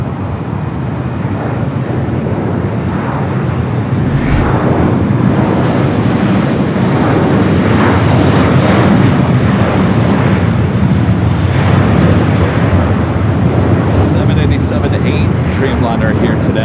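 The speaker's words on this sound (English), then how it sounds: "the Dreamliner coming from Mexico City" A Boeing 787 Dreamliner from Mexico City lands at Los Angeles International Airport, its broad jet roar rumbling steadily and loudly throughout, with wind buffeting the microphone.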